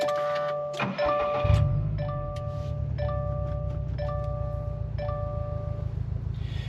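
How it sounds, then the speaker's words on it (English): A 2020 Subaru WRX STI Limited with modifications starts by push button: a chime, a brief crank, then the engine catches and settles into a steady, close idle while dashboard chimes ding repeatedly. "Put your foot on the clutch and it'll start right up."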